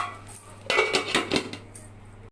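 A lid lifted off a cooking pot of mixed fried rice, giving a short series of close metallic clanks and scrapes of metal on metal, fairly loud, with no talking.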